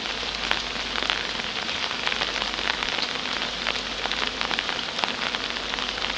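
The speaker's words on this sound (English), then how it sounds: "because it's raining" Rain falls steadily on a wooden beehive box outdoors in spring, a dense, close patter of drops with scattered sharper taps and no talking.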